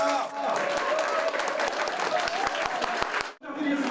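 Applause from an audience at a New Year opening ceremony event in Suwon, Gyeonggi Province, as guests enter; dense clapping fills most of the stretch, with a voice over it, then stops abruptly near the end.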